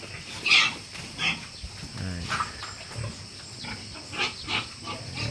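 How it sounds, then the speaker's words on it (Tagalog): A pet pig grunts repeatedly at close range in a mountain setting, its short rough grunts coming in an irregular series with steady background noise. "Ito po yung alagang baboy."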